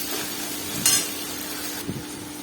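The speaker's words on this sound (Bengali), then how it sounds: "তো এটাকে ভালো করে এবার নাড়িয়ে চাড়িয়ে একটু ভেজে নেব" Chopped onion sizzles and fries in a pan for rice fry, with a spatula stirring and occasional scraping clanks against the metal; a steady close hiss holds throughout, with no talking.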